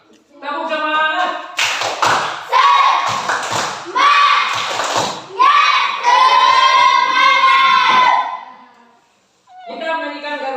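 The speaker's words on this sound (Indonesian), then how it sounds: "Tepuk semangat." Schoolchildren perform the 'tepuk semangat' clapping routine, with rhythmic claps and taps alongside their loud chanted voices, then a brief pause before voices resume.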